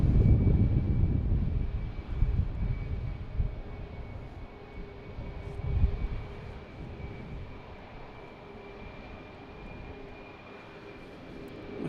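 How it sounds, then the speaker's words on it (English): A JetBlue Airbus A220 airliner rumbles at Boston Logan Airport with a steady low engine roar and a faint whine, loudest at first and then gradually fading as it moves away. "This is JetBlue coming from Pittsburgh, flight 2186 and A220."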